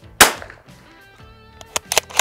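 One loud, sharp rifle gunshot from a Tactical Solutions survival rifle cracks out near the start, followed by quieter popping and clicking sounds toward the end.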